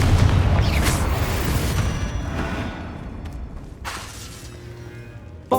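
A Confringo spell blast in Hogwarts Legacy: a loud booming explosion opens the moment, then rumbles and decays over several seconds, with a smaller burst partway through and a sharp hit right at the end.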